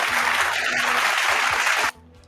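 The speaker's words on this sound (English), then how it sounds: "What are you applauding for?" Applause rings out steadily for about two seconds, then cuts off abruptly, leaving a quiet background hum.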